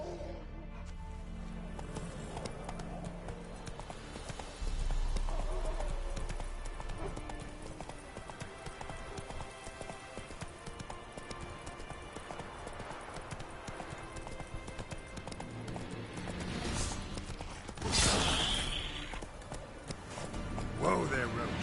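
A horse's hooves clip-clop in a steady galloping rhythm across open ground in The Witcher 3, with game sound effects and a voice speaking over the hoofbeats.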